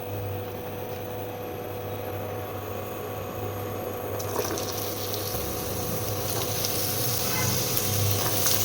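Vegetables fry in mustard oil in a pan for chow mein, giving a steady, close sizzle that grows a little busier partway through as more vegetables go in.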